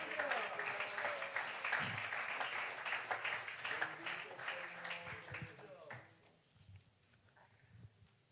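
A church congregation breaks into broad, sustained applause. The clapping fades out near the end, leaving a quieter room with scattered small sounds.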